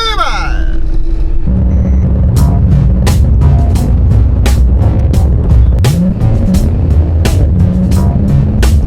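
A 3.5-ton refrigerated truck pulls away loudly from close by, its engine rumble rising and shifting through gears while sharp clicks and knocks punctuate the drive.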